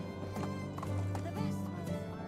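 A horse gallops in Medieval Dynasty, hooves clip-clopping in a steady quick rhythm under soft game sounds, with a faint voice nearby.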